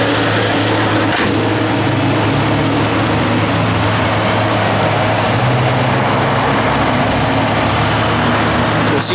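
A 1950 Ford F1 pickup truck engine idles close by with a steady, even hum and a low drone throughout. No one speaks.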